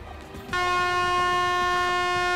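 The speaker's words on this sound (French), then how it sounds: "je vous propose d'alerter tous les autres avec la corne de brume" A loud, sustained foghorn blast starts abruptly and holds at a steady pitch until the end.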